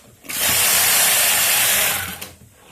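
An SK155 knitting machine carriage is pushed across the bed while test knitting slip stitch, giving one loud, close, continuous rushing whir that lasts about two seconds and then stops, with no voices.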